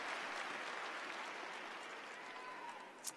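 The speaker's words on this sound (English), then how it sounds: "Let's give her another round of applause to Ratina." Steady audience applause fills a university graduation ceremony hall, a dense even wash of clapping that holds loud throughout and tapers only slightly near the end.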